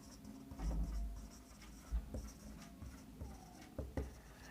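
Writing journal entries on a board, heard as scattered scratchy strokes and taps with a few soft thumps, fairly close and without talk.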